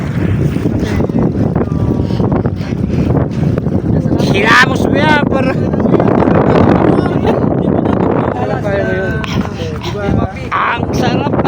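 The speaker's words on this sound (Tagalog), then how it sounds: "ang sarap ng hangin dito" Strong wind buffets the microphone aboard a boat out on the water, a loud, gusty rumble that persists throughout while people talk and shout over it.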